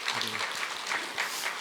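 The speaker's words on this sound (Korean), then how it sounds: "우리 감사와 격려의 박수 한번 드립니다." A church congregation at a Sunday service claps in thanks and encouragement for mothers, a lively burst of applause with a few louder individual claps and faint voices mixed in.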